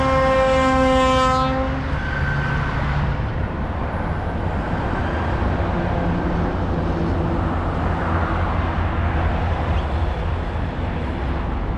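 A Nairobi commuter train sounds its horn as it prepares to depart: a loud, steady multi-tone blast lasting about a second and a half, followed by a continuous rumbling roar of the train and station noise that fills the rest of the scene.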